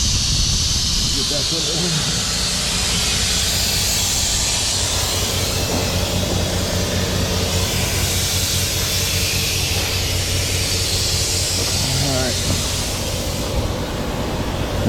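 Air hisses loudly and steadily from a leaking valve on an asphalt tanker, a broad continuous rush lasting the whole stretch, with someone speaking briefly over it.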